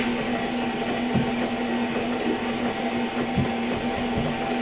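An electric mixer whisks pumpkin pie filling in a bowl, a steady loud whirring drone with a constant pitched hum that runs unbroken throughout, nearby and with no talking.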